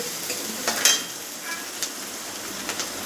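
Chopped garlic and green chili hiss in a pan of papad curry as a spoon stirs through it, soft sizzle with a few light scrapes and clinks, close and moderately loud.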